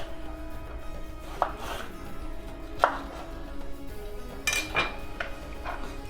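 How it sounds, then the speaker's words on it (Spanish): A knife chops bell pepper on a cutting board in a home kitchen, giving a few sharp, separate knocks spaced about a second apart, close and fairly quiet, with no voices. "No hace falta que lo cortéis en trozos muy pequeños."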